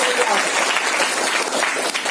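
Audience at a diamond achievers meet giving loud, sustained applause, dense clapping filling the whole moment without a break.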